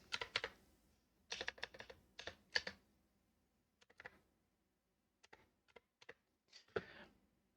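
Someone types text on a computer keyboard while formatting HTML, with close, quiet bursts of rapid key clicks separated by pauses and single scattered taps.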